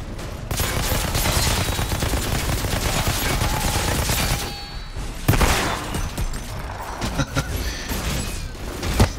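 Shotgun gunfire in the sci-fi shooter video game Outriders, with dense, loud bursts of shots and clattering mechanisms running almost continuously, a brief lull near the middle and a sharp blast after it.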